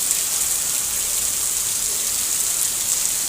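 A constant wash of rain pours onto a road, loud and unbroken, with no talking over it.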